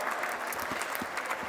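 Dense audience applause at a job and training fair in Fundão, steady, close clapping filling the whole short stretch.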